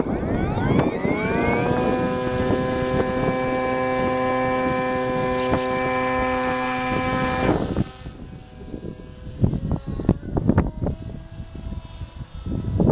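The electric motor of a Phantom FX-61 FPV flying wing on a four-cell setup spins up at half throttle for launch, a loud, steady tonal whine with strong harmonics. It drops away after several seconds, leaving wind buffeting and handling noise.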